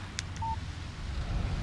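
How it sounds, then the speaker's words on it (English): A phone's text message notification chimes in Alan Wake Remastered: a single short electronic beep over a low, steady rumble of game ambience. "Text message from Barry."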